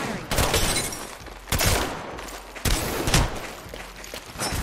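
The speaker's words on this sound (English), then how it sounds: "I'm taking shots." Gunfire from the video game Apex Legends, including 30-30 rifle shots: three loud, sharp reports about a second apart, each with a short decay over a steady background of game noise.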